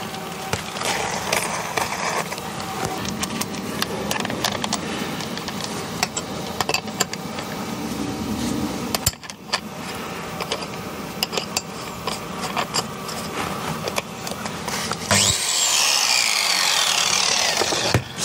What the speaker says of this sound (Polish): Oszlifujemy to grubą tarczę.